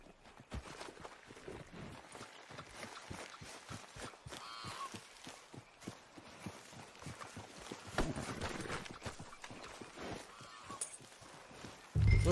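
Horse hooves clopping in a steady rhythmic gait while riding in Red Dead Redemption 2, moderately close over ambient outdoor game sound, with a brief loud thump at the end.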